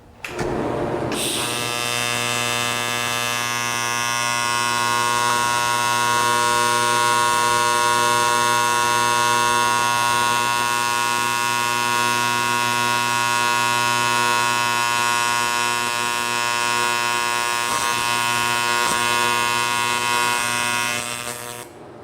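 A TIG torch running a bead on a metal plate gives a steady, loud electric buzz with a strong harmonic hum for about twenty seconds, with a brief crackle near the end as the filler rod sticks to the tungsten.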